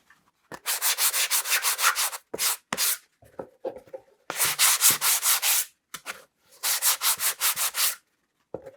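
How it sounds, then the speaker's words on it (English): Close, loud sanding of a wooden box in long rhythmic strokes, several bursts of rapid back-and-forth scraping separated by short pauses and a few light knocks, with no talk. "Let me sand it a bit."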